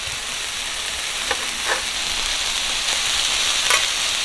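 Shaved steak frying in a hot pan, a loud, steady sizzle with a few soft scraping stirs breaking through, no voices.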